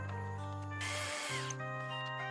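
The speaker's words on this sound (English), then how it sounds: "The sound of the drill is a song of creation" Power drill whirring into wood during construction of a two-story floating house, a steady motor hum that rises into a brief loud grinding burst midway, then settles back to the hum.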